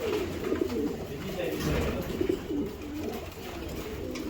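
Racing pigeons, a hen among them, coo in soft repeated rolling calls against a busy, noisy loft background while someone talks nearby.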